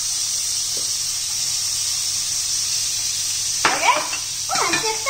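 Onion fries in melted butter in a pan with a steady, bright sizzle throughout, joined near the end by a few light clinks and scrapes of a utensil.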